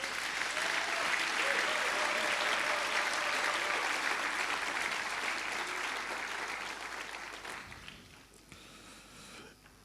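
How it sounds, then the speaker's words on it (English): A forum audience in a hall gives sustained, loud clapping that holds steady, then fades and thins out toward the end. "I need for us to give ourselves a round of applause."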